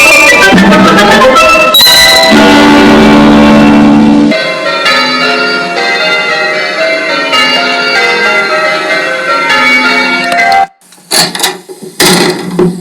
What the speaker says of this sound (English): It's not easy getting a 4-ton bell swinging, you know, Sid.